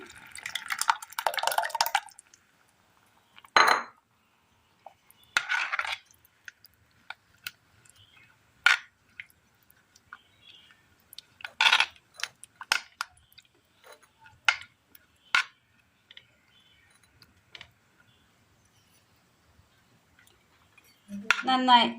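Curd being stirred into a vegetable curry in a pot for a Kerala-style dish: sparse wet clinks and scrapes of a spoon against the pot with long quiet gaps, close by, and a voice briefly speaking at the start.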